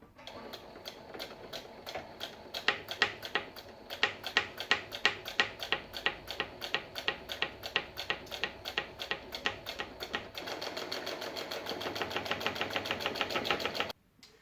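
A sewing machine stitches a lined zipper pouch in a rapid, even run of clicking needle strokes, close and fairly quiet, speeding into a denser buzz before stopping abruptly.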